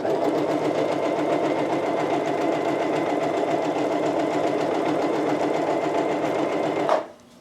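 A Singer M1150 electric sewing machine runs steadily with its foot pedal held down, making a close, even mechanical whir and rapid needle clatter for several seconds before it stops suddenly.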